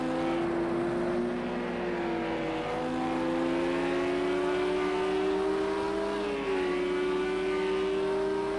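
Race car engines from a racing video game at Hockenheimring, a Lamborghini and a Porsche among them, drone continuously at high revs, pitch gliding and shifting with a brief gear change, loud and steady with no talk.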